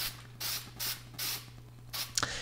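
Short bursts of cheap black spray paint from an aerosol can, coating parts for a TIG welding tungsten sharpener; four evenly spaced hissing sprays, then a fifth that ends in a small rattle or clack, close by with no talking.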